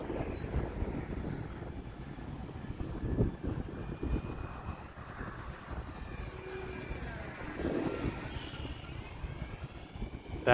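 An E-flite T-28 1.2m RC plane flies at about three-quarter throttle, its motor making a faint, continuous buzzing drone with slight swells. The sound is outdoors, apparently between rain showers, with no talk.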